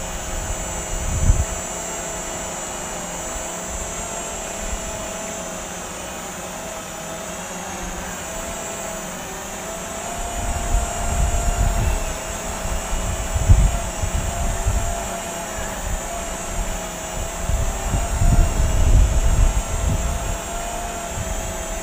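Snaptain SP500 quadcopter drone flying, a steady high-pitched motor whine holding through the whole stretch, with gusty low rumbles swelling in the second half.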